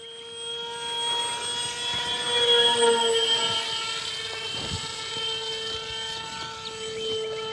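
FMS Easy Trainer 1280mm RC airplane's electric motor whines steadily as it flies at around half throttle, the pitch rising and falling slightly as it passes at moderate distance.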